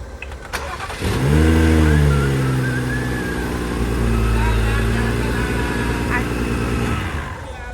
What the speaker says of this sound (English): we just got the car running